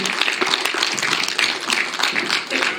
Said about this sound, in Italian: Li accogliamo con un fortissimo applauso, Gavino Loche e Serenella Lunesu